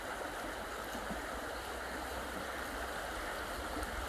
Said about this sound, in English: as the water flows over them it's rippling and bubbling